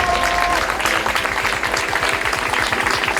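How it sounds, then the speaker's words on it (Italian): Audience clapping at a beauty pageant selection evening at a villa in Stra near Venice, a short burst of applause over a rhythmic music backing, fairly loud and steady. "Quindi un applauso alle ragazze che vanno a prepararsi."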